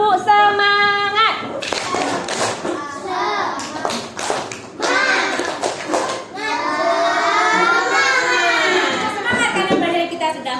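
A classroom of children chants the rhythmic 'tepuk semangat' clap routine as an energizer near the end of a lesson, with sung voices and claps mixing over the whole passage.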